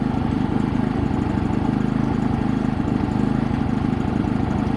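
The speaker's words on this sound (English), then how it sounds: "That's just vibrating because it's a running engine." A Harbor Freight 3500W inverter generator runs steadily, surging and missing, with a rapid, pulsing throb and slight unevenness in its rhythm, close and moderately loud.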